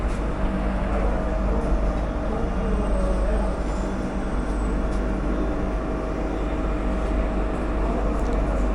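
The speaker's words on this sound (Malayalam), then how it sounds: "ഒരു ഡെമോ കയറി വരുന്നുണ്ട്. ഇത് ചിത്രദുർഗ ഹുബ്ബള്ളി ഡെമോ ആണ്." A Chitradurga–Hubballi DEMU diesel-electric multiple unit train pulls into a station, a steady heavy low rumble of engine and wheels filling the scene without a break.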